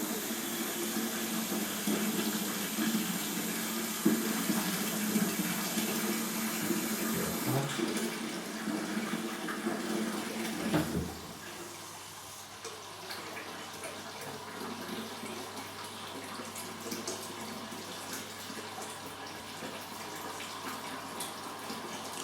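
Steady rushing of cold water pouring from a tap into a wine kit container, loud and continuous, briefly dipping then settling into a lower, even flow.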